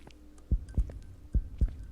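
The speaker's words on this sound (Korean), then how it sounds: "점점 심장 소리가 적어진다?" Heartbeat in the horror game Precipice: four deep, thudding double beats at a steady slow pace, close and prominent over a low ambient hum.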